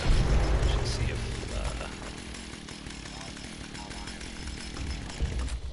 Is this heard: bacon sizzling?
no